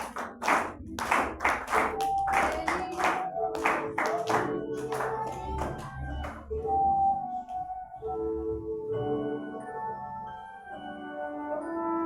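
A church congregation claps hands during worship at a communion service, rhythmic claps in the first half under singing voices, then sung melody and music continue as the clapping fades.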